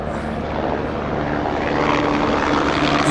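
Search helicopter flying overhead looking for a missing hiker, its engine and rotor giving a steady droning roar that swells slightly louder as it passes, heard alone without talk.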